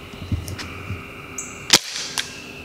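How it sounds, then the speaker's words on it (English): A Nerf blaster fires an Accustrike slug dart through a chronograph, giving one sharp, loud crack amid a few softer clicks and handling taps. "we're gonna fire two off the chronograph and then two into the distance"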